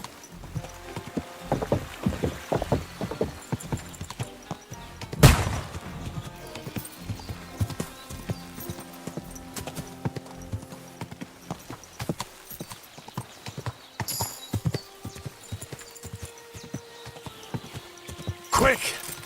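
Horse hooves clop in a steady trot in Kingdom Come: Deliverance II, sharp and fairly close, with a couple of louder impacts and faint game ambience; no speech stands out.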